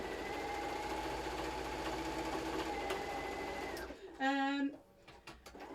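Sewing machine stitching a quarter-inch seam corner to corner on self-binding napkins, a steady close whirring run of about four seconds that stops abruptly, followed by a brief tonal sound and quiet clatter.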